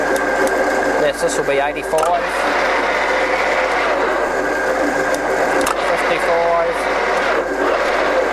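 A used Scott 6250 lathe fitted with a digital readout runs steadily through its mid-range gear speeds, a continuous loud mechanical whir and gear hum with shifting tones, while someone talks over it.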